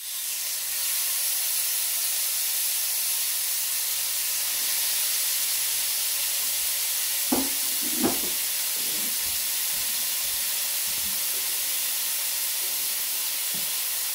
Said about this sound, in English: Now, using the same pan with all those flavors and juices, we're going to put our burgers in.